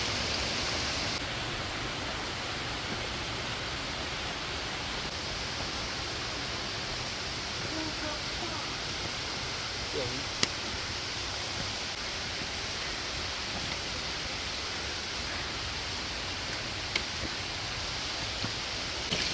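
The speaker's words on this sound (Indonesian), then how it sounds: "Curugnya." Curug Cikarackak waterfall heard from a forest trekking trail, a constant broadband roar of falling water with no speech.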